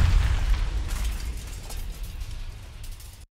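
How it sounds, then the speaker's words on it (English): A stock explosion sound effect, added during editing, that hits with a loud, deep rumbling boom at the start and then rolls and crackles as it decays for about three seconds before cutting off abruptly. "at the point of our explosion"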